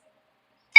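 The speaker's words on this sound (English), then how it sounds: "Oh, sorry guys, that was my phone." A phone notification tone sounds at the very end after near silence, a single short bright electronic beep, fairly loud and alone.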